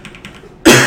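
A single sharp cough bursts out near the end, loud and close, after a stretch of quiet room tone.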